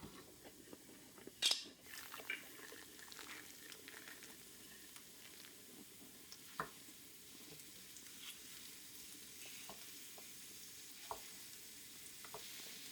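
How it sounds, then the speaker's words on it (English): Venison and onions fry on high heat in a pan, giving a steady low sizzle broken by scattered spatters and a few louder clatters of stirring, with no talking. "I'm going to put them back onto the high heat and add the venison."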